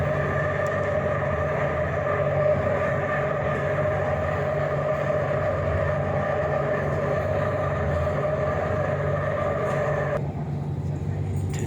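An Airport Rail Link train to Suvarnabhumi runs steadily close by, a loud continuous rumble with a droning hum that stays even throughout, dropping slightly near the end.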